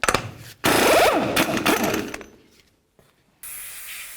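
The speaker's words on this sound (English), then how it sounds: "Apply some penetrant in this area." A can of penetrant sprays onto the steering knuckle area of a 2007-or-later Toyota Tundra during a front CV axle job, a close, loud hissing burst lasting about a second and a half, followed by quiet and then another short hiss.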